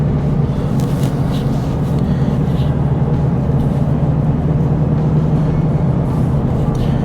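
A car cruising in fifth gear at low speed on the winding Pig Trail Highway 23 in Arkansas, a steady close engine drone with road and tyre rumble, continuous and unbroken with no talking.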